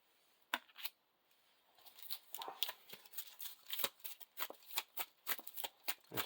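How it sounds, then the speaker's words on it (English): Encounter deck of cards for The Lord of the Rings card game being shuffled at close range, a quiet start followed by quick repeated riffles and snaps in an uneven rhythm. "Shuffle the encounter deck"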